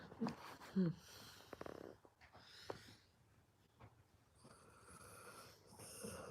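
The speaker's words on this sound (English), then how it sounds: "You can go back to snoring." A person snores softly in a quiet room, with low snorting, wheezy breaths rising and falling under faint background noise.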